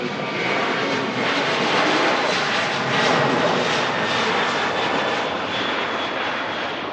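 An Aer Lingus UK jet airliner departing Manchester Airport roars steadily and loudly throughout, a broad sustained engine noise that swells slightly in the middle without fading away.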